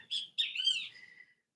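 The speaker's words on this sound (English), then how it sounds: "You might hear a bird in the background fucking making noise." Small birds chirp nearby in a few quick bursts of high, bright tweets, with a short gap and a trailing softer call, heard alone without talk.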